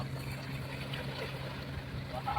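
A fishing boat runs fast over the sea, a steady engine drone and rushing water noise holding evenly throughout without any break.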